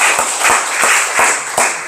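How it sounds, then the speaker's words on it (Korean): A church congregation claps in rhythm during a thanksgiving worship service, making loud, evenly spaced claps, about five in two seconds, with no talking. "우리 박수 영광을 돌리겠습니다."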